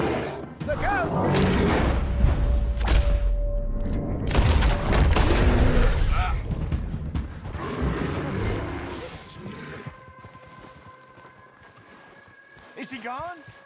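Gunfire shooting at a bear in Red Dead Redemption 2, loud booming shots mixed with roaring, hoofbeats and a horse's whinny, with speech over the chaos before it fades.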